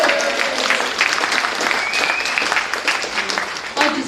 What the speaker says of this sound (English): Big round of applause for Vicky.